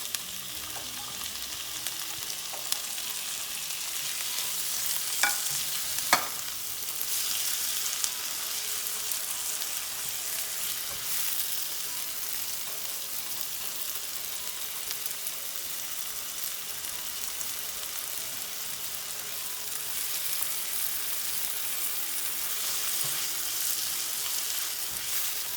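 Tomatoes cook with already-fried onions in a pan for a spinach and tofu curry, giving a constant soft sizzle and crackle with a few brief sharp clicks and no talking.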